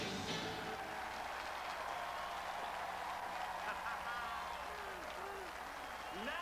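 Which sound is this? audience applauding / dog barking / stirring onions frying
audience applauding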